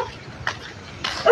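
A dog lets out two short, sharp barks about half a second apart, fairly close, with a faint yip at the end.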